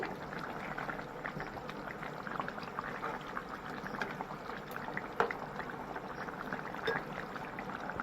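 Bhola fish curry with potato and eggplant boiling in a pot, a steady close bubbling simmer with occasional small pops, continuous and alone.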